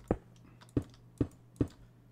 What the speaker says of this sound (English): And place the glass on top of it.